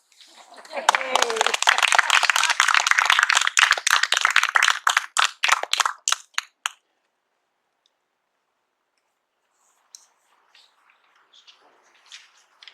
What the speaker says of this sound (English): That's certainly deserving of another round of applause.